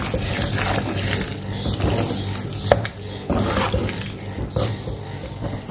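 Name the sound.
stirring mutton kaleji masala in a pan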